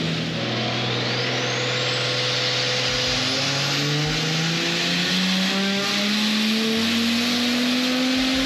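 A pink Nissan R32 Skyline with an RB25 engine swap revs through a dyno power run. The engine note climbs in one long, steady, rising wail that grows louder and higher, with a faint whine sweeping upward above it.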